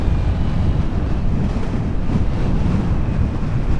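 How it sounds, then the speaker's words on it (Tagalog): Strong wind gusting steadily as dark clouds gather before rain on a mountain road between Dupax Del Norte and Aritao, Nueva Vizcaya, a loud, continuous low roar buffeting the microphone, with no voices. "Ayan, lakas na rin ng hangin."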